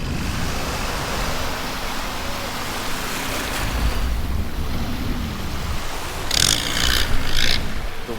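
Ocean at Railay Beach in Krabi, Thailand: a steady wash of surf mixed with wind buffeting the microphone, and a short brighter splash near the end.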